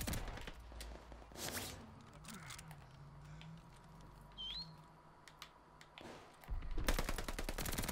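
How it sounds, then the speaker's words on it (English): Gunfire striking wooden cover in the shooter Call of Duty: Vanguard: a few isolated sharp cracks early on, a quieter stretch, then a dense, loud rattle of rapid impacts near the end. "He shot the wood."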